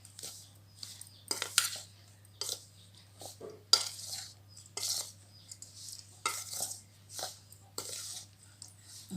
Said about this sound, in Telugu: పాకం మొత్తం కలిసేట్టు కలిపేసుకుందాం